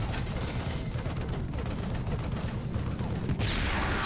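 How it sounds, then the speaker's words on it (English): An auto turret firing in a video game: a continuous, dense rattle of rapid shots that holds at a steady, loud level throughout, with no clear breaks. "Cheeky little auto turret."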